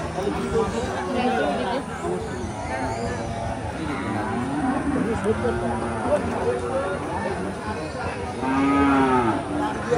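Several medium and small cattle moo repeatedly, some close and loud, amid a busy crowd's chatter and general bustle at the Ganna livestock market.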